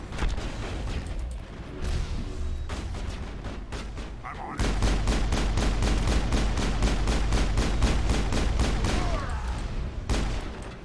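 Sustained gunfire from the video game Mass Effect rattles in rapid, evenly spaced bursts, loud and close. There is a short pause near the start, then a dense stretch of fire from about five seconds to ten seconds.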